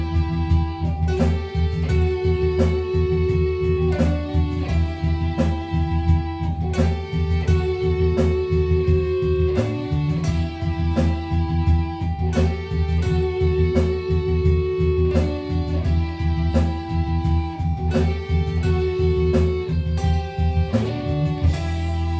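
An electric guitar plays a harmony line over a full backing track, the parts blending into steady, loud rock music with a regular beat and no speech.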